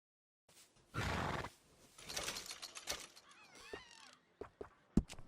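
A horse in the western video game Red Dead Redemption 2 neighs with a loud rising whinny, followed by snorts, hoof and tack noises and a few sharp clicks, all fairly close.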